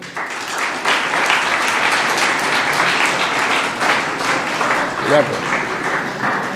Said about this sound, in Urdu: یہ دونوں بچے، ان دونوں کے لیے تالیاں